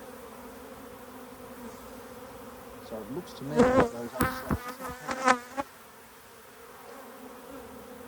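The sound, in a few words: honey bees buzzing at open hive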